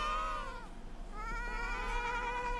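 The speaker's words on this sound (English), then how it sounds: "I got a sheep farm down here, nice size, all the different sheeps." Sheep bleating on a sheep farm in a video game: several wavering bleats overlapping across the clip, fairly close and clear with no talk.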